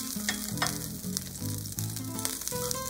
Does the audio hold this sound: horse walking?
no